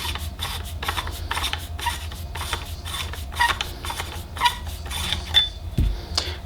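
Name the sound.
unscrewing the bottom of a Savi's Workshop lightsaber hilt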